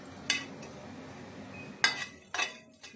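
A utensil stirs biryani spices roasting in a pan, making three sharp metallic clinks and scrapes spaced over a low, steady background hum, close by and with no voices.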